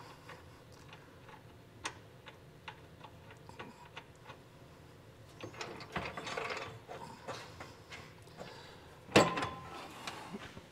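Socket ratchet snugging down trailer hitch receiver bolts on a 2023 Chevrolet Equinox, quick bursts of close clicking pawl ticks in short strokes, with faint handling noise between and no talk.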